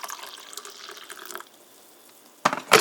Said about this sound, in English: After that, you pour in the water.